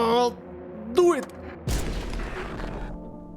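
A gunshot in the video game No, I'm Not a Human: one sharp blast followed by a lingering rumbling tail, with a voice speaking just before it.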